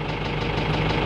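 A tractor engine runs at a steady, knocking mid-pitch idle while lifting a section of a barn cupola onto the roof, heard close and alone for a brief moment.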